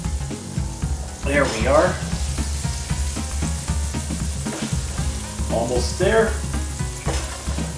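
Breaded squid pieces sizzle steadily in hot oil, a continuous crackling fry with occasional stirring, while a person talks briefly over it.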